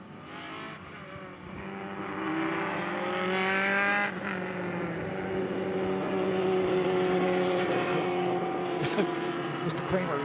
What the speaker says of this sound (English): Sammy's car always has a nice sound to it